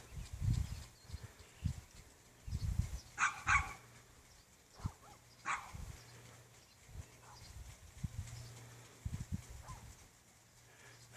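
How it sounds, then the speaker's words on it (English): Dogs bark intermittently at a distance in a quiet early-morning garden, scattered faint barks and yaps spread across a mostly calm background. "Nice and quiet early in the morning, except for the dogs, of course."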